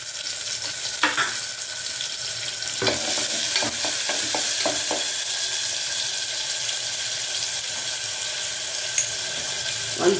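Chopped onions frying in about three tablespoons of hot oil for a curry, a steady close sizzle with scattered clicks and scrapes of a spoon stirring through the pan.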